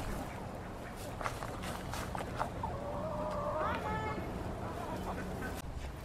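A hen gives a short drawn-out cluck-like call partway through, faint against a background of rustling and outdoor noise.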